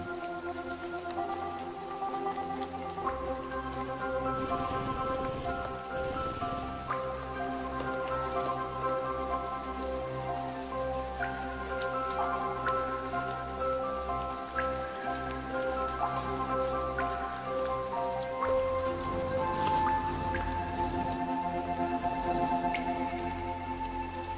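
Steady rain falling on leaves in a tropical forest, a continuous soft patter of drops with scattered louder drips, moderately distant, under a faint background of other ambient sound.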